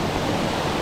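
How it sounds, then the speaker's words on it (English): A steady, full rush of falling water from a waterfall at a free campsite in Queensland, continuous and even with no voices. "And more waterfalls, and more waterfalls, and more waterfalls"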